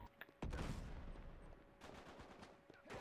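Gunfire in the online multiplayer game Uncharted 3, with dense bursts of rapid shots and a sharper burst near the end, all loud and continuous and fairly close.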